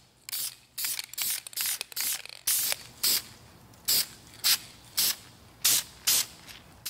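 Light clear coat is sprayed from an aerosol can onto brake calipers in a second pass: about a dozen short, even hissing bursts in a steady rhythm, close and moderately loud, with no talk.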